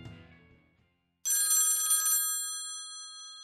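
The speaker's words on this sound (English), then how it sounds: "I saw a Nokia small phone right there on our dining table, ringing repeatedly" A small Nokia phone on a dining table rings with a bright, sharp electronic ringtone, starting abruptly after a brief quiet rustle and then lingering as it decays.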